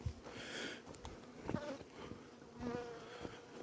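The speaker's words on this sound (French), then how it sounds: "Mon rucher va bien, 9 ruches." Honeybees buzz around an apiary of nine hives, a soft continuous drone close by, with individual bees passing near and fading.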